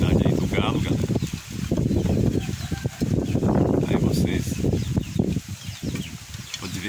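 An English game rooster with a brood of young chicks, clucking and calling close by in a busy yard while someone talks over them throughout.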